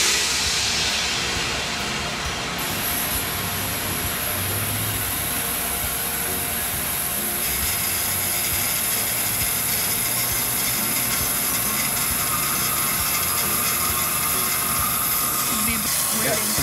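Propane hissing and spraying out of the bleeder valve of a 56-pound RV propane tank during a refill at a filling station, a steady loud jet of hiss that holds for the whole stretch under a constant background roar.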